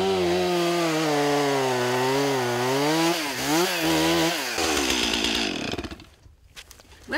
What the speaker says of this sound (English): This is why the chainsaw rides up front.